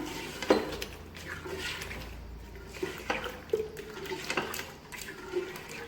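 Yogurt marinade is stirred in a pot with the stove off, giving soft wet scrapes and a few light clinks of spoon against metal, close and quiet, no talk.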